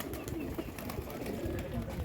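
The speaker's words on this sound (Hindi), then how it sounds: "ये मेरे कबूतर हैं" Pigeons kept in a loft coo in a low, steady murmur that runs through the whole stretch, moderately close, with rustling and a background voice or two.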